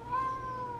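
A cat at home gives one drawn-out, tonal meow, close and fairly loud, with no talk over it.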